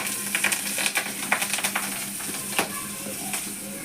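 Bay leaf, cumin and green chillies hit hot fish oil and sizzle loudly, with sharp crackles and pops over a constant hiss that eases off toward the end.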